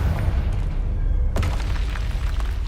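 Confringo spell explosion in the video game Hogwarts Legacy, a sharp burst breaking through a dense rumbling game soundscape, followed by a crackling, booming tail.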